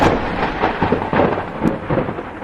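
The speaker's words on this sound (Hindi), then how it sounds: "बारिश लगातार हो रही थी।" Heavy rain with rolling thunder during the Kedarnath flood, a loud, dense roar of downpour and rumbling that swells and recedes in waves.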